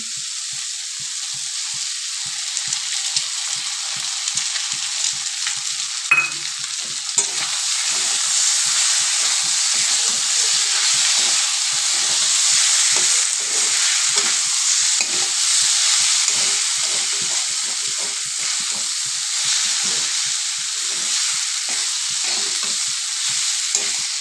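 Potatoes and eggs fry in a hot wok, a steady loud sizzle running throughout, broken by repeated scraping and stirring strokes of a spatula against the metal.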